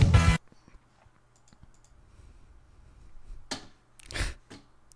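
Quick clicks on a computer keyboard, faint and sparse after a brief loud burst of noise, with a couple of louder clusters of keystrokes toward the end.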